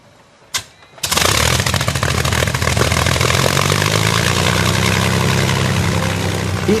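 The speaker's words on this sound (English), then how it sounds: "The Merlin, built by Rolls-Royce, is exactly the same engine which powered the Spitfire" Rolls-Royce Merlin engine of an Avro Lancaster bomber, a brief cough and then a loud, steady, rumbling roar that holds for several seconds, close and unbroken, with no talk.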